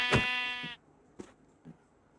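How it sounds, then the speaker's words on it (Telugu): A goat in the Minecraft video game gives one clear, loud, quavering bleat, followed by a few faint short clicks and thumps in near silence. "ఓ, ఇక్కడ కూడా మేకుందా?"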